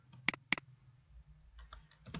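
Keys clatter on a computer keyboard while code is entered in Android Studio: two sharp, loud keystrokes, then a pause, then a run of softer, quicker taps close by.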